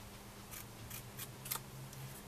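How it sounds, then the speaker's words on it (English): Scissors trim heavy paper for a wallet waterfall album, making several faint, quick snipping clicks at an uneven pace over a quiet room hum. "And then we'll trim this off here like we did the first few pages,"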